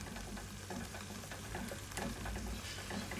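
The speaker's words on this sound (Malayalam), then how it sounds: "നമ്മൾ മഞ്ഞൾപ്പൊടി ഇട്ടിട്ട് നന്നായിട്ട് ഇതൊന്ന് മിക്സ് ചെയ്ത് കൊടുക്കാം." Turmeric powder is mixed into a simmering moru curry in a pan. A soft, continuous sizzle runs with faint stirring scrapes, fairly quiet and close.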